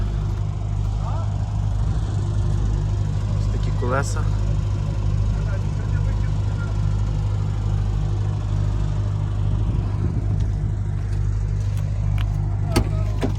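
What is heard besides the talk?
Opel Astra H 2010 petrol engine started and idling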